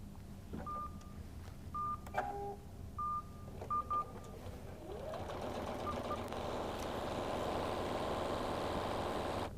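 Several short electronic beeps sound from a computerized QuiltMotion X quilting system, then the quilting machine starts stitching a design with a rising, steady mechanical whir that runs to the end, close and without talk.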